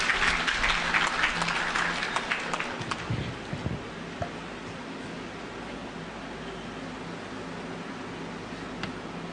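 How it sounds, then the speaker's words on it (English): Audience applause at a funeral and burial service, a broad wash of clapping that is loudest over the first few seconds, then thins into a steady, softer patter with low crowd murmur beneath. "Let's give Noela a clap, please."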